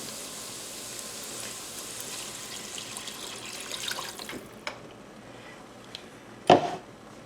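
Six cups of water pour steadily into a soup pot for chicken corn soup, a soft continuous splashing trickle close by that tapers off, followed by a brief clunk near the end.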